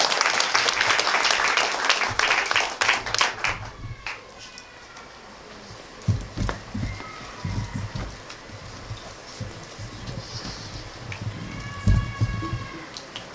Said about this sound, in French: Encore une fois, on applaudit John Wesley Delva, s'il vous plaît.